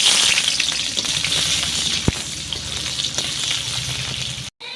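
Chopped onions go into oil tempered with cloves, cardamom, dried red chili, bay leaf and cumin, giving a loud steady frying hiss with one sharp tap midway and a brief cut-out near the end.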